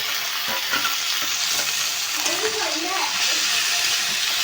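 Loitta dried fish frying with browned onions, stirred in the pan: a loud steady sizzle with scraping stirs, while people talk over it.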